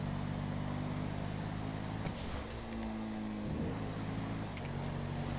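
A car driven in GTA V, its engine a steady low drone whose pitch shifts as it slows and picks up speed again, close and continuous with no talking over it.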